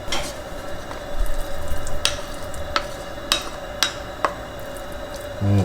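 Pork fat pieces frying in a preheated cast iron pan while being rendered into lard, a low steady sizzle broken by several sharp clicks and knocks of a utensil against the pan, with no voices.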